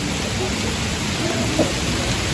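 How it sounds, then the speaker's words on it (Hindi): Heavy downpour during an outdoor picnic, a dense, loud, steady hiss of rain on surfaces filling the whole moment, with no clear voices. "बड़ी खूबसूरत बारिश हो रही है जी, बड़ी तेज तेज शुरू हो गई है"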